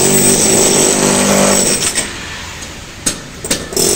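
Power drill cutting at a construction site during cement roof sheet leak repair, a steady loud grinding drone for the first half, then fading into scattered sharp metallic knocks and clanks.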